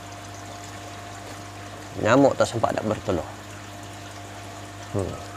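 Water circulates through a recirculating aquaculture fish farming system with a steady, low rushing and hum that runs throughout, partly covered by someone talking briefly in the middle.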